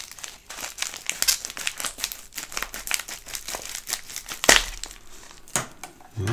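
Crinkling plastic and paper rustle up close as a package of silver coins is cut open with scissors, with a couple of sharper snips near the end.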